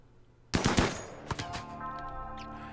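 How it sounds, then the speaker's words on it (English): Distant gunfire in the video game RimWorld, a rapid burst of several shots after a quiet start, followed by a few fainter cracks that ring out and fade. "There's gunfire in the distance."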